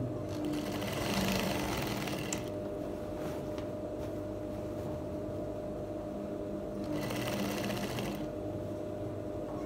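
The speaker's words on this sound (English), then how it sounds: "So I have to shift it back when I'm sewing." A sewing machine stitching a pocket on a palazzo jumpsuit, running continuously up close with a steady whirring drone and brief brighter surges of faster stitching.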